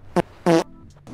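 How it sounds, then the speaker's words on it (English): Two short, buzzy spray-fart blasts from a video game, the second longer than the first, sound close and loud against a quiet background. "spray fart"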